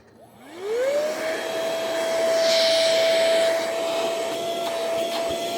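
A small motor in a handheld 2-in-1 air blower and vacuum gadget spins up with a rising whine, then settles into a steady, close, loud blowing hum that runs on without pause.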